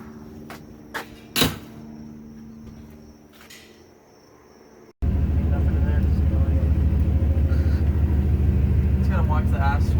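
An LS-swapped Winnebago motorhome, converted from Mopar to Chevy power, starts with a few knocks and clunks, then its engine drones in a loud, steady rumble while people talk.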